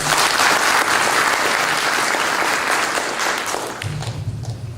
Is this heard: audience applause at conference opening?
yes